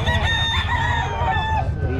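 A Sweater gray Talisayin gamefowl rooster crows loudly and close, a drawn-out cock-a-doodle-doo with clucking, filling the two seconds.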